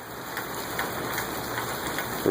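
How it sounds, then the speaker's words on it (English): Heavy rain pouring outdoors on a property with a rain barrel, a dense continuous wash of drops hitting the ground and surfaces, close and steady. "It's raining so hard that the ground collapsed underneath our rain barrel"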